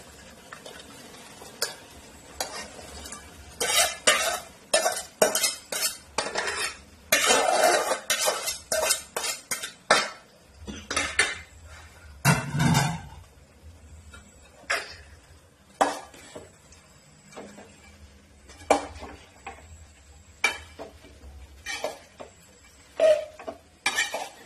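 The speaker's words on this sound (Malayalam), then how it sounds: "നമ്മുടെ മീൻ വറുത്ത് വെച്ച് ഇത് ഇതിലോട്ടിടാം" Fried fish being stirred into a thickening vinegar pickle masala, with repeated clinks and scrapes of a spoon against the pan in irregular bursts, plus a soft sizzle underneath, close and without speech.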